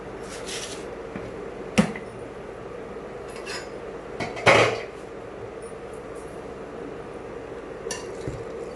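A lid is set on a pot of cooking mutton biryani, producing a few sharp metallic clinks and clatters spaced apart against quiet kitchen background.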